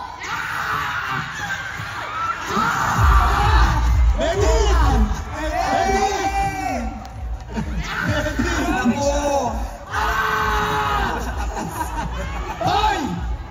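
Crowd at the parade of stars of the MMMF 2024 film festival, shouting, whooping and screaming in loud excited bursts, with a voice talking over the noise.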